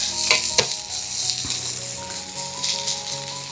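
A chicken mixture with salt and green chilies fries in a pan while being stirred, a loud, close sizzle and crackle with a few metallic clinks and scrapes from the spoon.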